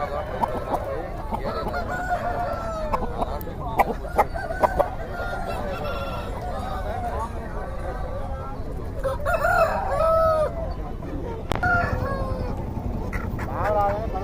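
Native country roosters and hens at a busy village chicken market in Nallapadu, with repeated loud crowing and scattered clucks over a constant background of crowd chatter.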